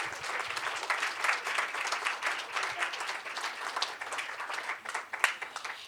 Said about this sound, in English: Give them a warm and wonderful applause.